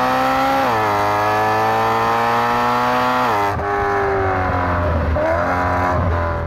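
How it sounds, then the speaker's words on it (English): The naturally aspirated V8 engine of a BMW 1M revs up and holds a steady high pitch, then drops off and climbs again, a rich continuous roar heard up close. "one of the benefits of having this nice, naturally aspirated and super linear engine"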